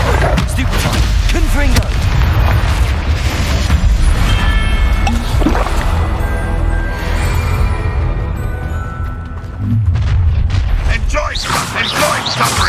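Confringo blasting-spell explosions in the video game Hogwarts Legacy, loud booming bursts layered with battle clatter, repeated throughout under spoken spell incantations.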